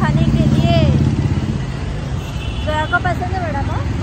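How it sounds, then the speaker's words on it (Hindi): Vehicle traffic passes along a roadside stop for vada pav, a continuous road rumble beneath close, loud conversation. "बैकग्राउंड में आवाज आ रही है गाड़ी की।"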